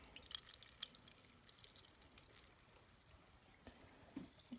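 A homemade citrus, cedar and pine cleaning vinegar blend drips and trickles through a cloth in quiet, scattered drops and light splashes, fairly faint and close, with no voices.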